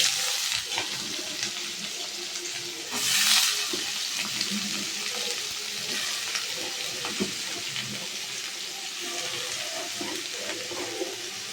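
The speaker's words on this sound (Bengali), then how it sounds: "এবার এক এক করে আমি এই আলু আর লাউ খোসা কুচিটা দিয়ে দেবো।" Chopped potato and bottle gourd peel hit hot oil in a frying pan, with a brief, brighter burst of sizzle as they go in. A steady frying hiss continues underneath, with light stirring clatter.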